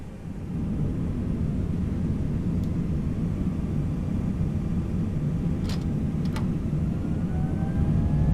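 Airbus A321 engines spooling to takeoff thrust on departure from Innsbruck, a loud, steady, deep roar that holds unbroken throughout, with a few faint high whistles rising over it.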